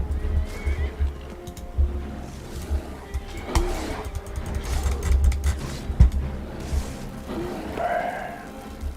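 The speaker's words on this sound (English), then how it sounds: "Don't kill Horsey" A horse in the game Skyrim neighs and whinnies, with hoof clip-clops and game sound effects mixed in over a steady low rumble, the calls rising clearly a few times.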